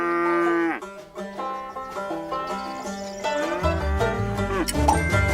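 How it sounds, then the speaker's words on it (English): A cow moos in long, drawn-out calls, first alone and then over rising musical accompaniment, loud and close. "It's a cow."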